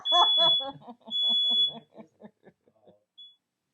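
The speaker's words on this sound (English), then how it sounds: "our fog machine set off the alarm" A smoke alarm set off by a fog machine beeps in a high steady tone, two long bursts and then a short chirp, while a voice talks over the first part and trails off into quieter speech.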